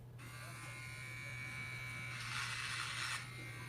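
Bimirth electric kids hair clippers buzz steadily at close range, the motor tone thickening as the blades bite into a child's hair during a home haircut, with no one talking.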